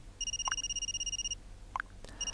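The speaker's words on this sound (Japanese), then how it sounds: "電話が鳴った。" A phone rings in the otome mobile game Stand My Heroes with a steady electronic ringtone that pauses, then resumes near the end, alongside two short chirping blips.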